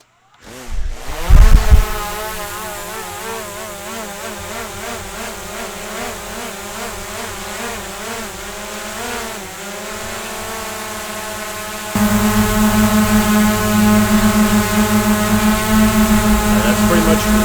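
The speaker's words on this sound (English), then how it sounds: "Launch number 2 with the low noise propellers." A DJI Mavic Air 2 drone fitted with low noise propellers spins up and hovers close by, a steady high whine and buzz with a brief louder burst at launch that grows stronger later, no talk.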